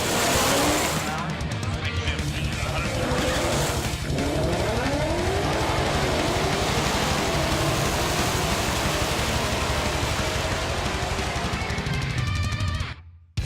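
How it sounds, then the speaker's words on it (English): A 2005-2010 Ford Mustang fitted with an Edelbrock E-Force supercharger drives hard, its loud, steady engine roar and whine building and rising in pitch throughout before cutting off abruptly at the end. "The Supercharger is very smooth, it's very responsive"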